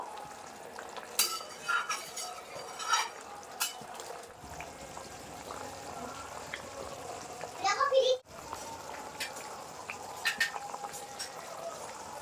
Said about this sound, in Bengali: এবার ভেজে রাখা কোপটা দিয়ে দেবো আমি দিয়ে আর একটু ফুটিয়ে নেব